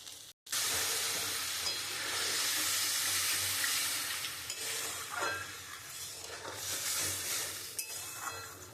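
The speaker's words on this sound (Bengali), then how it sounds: "এখন পরিমাণ মতো জল দিয়ে দেবো।" Water poured into a simmering fish curry of morola fish, with a sudden loud hiss and steamy sizzle after a brief silent moment, then continuing bubbling and spitting close by.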